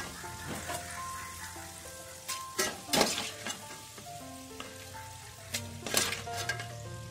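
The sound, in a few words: tapioca fritters (poolaporі) frying in hot oil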